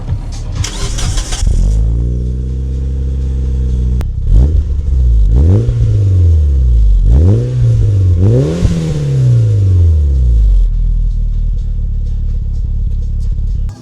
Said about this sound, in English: made another exhaust because it sounds beautiful